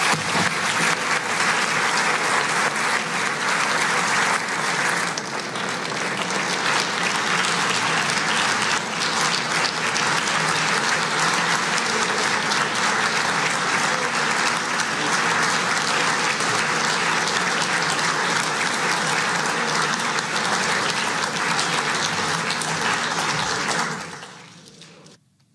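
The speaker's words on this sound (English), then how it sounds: "I want to invite all of you to offer to the Vice President of the United States a warm round of applause" Sustained, loud applause from a large audience greeting the US Vice President at the Munich Security Conference 2022, continuing steadily for about twenty-four seconds before cutting off abruptly.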